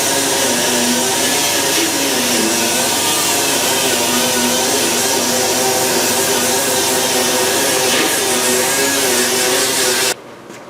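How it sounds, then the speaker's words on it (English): An angle grinder with a 2-inch 36-grit disc grinds steadily on a steel El Camino door skin, a loud, close, continuous abrasive whine that cuts off abruptly near the end. "We just start grinding."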